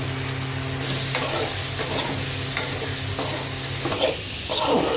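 Spice masala of cumin, chilli powder and turmeric with onion, ginger and potato frying in a pan, a loud close sizzle broken by repeated scraping stirs and no voices.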